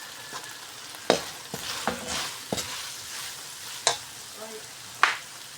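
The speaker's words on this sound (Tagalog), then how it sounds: "Lagyan natin yung carrots." Carrots being stir-fried with oyster sauce for pancit bato, a close steady sizzle broken by several sharp scraping and knocking strokes of a spatula against the pan.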